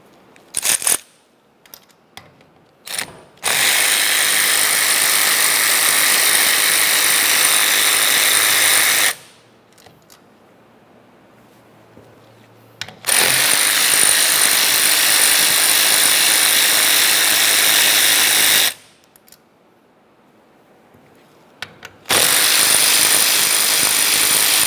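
Power driver whirs in three long, loud bursts while backing out T30 Torx screws from the steering column of a 2001-2005 Ford Explorer Sport Trac, with quiet handling clicks between runs.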